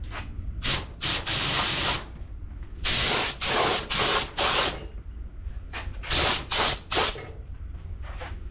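Spray gun applying 2K epoxy primer in a painting test, heard as repeated loud hissing bursts of about a second each, grouped in clusters with short pauses between passes and a low background hum.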